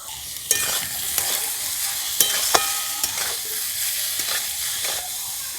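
Mixed vegetables fry lightly in oil and salt in a pan, with a steady close sizzle broken by irregular scraping stirs of a spatula.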